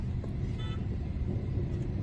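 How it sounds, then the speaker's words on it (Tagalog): Road traffic in the Philippines: a steady rumble of passing cars with one short car-horn toot early on, moderately close, no talking. "Traffic."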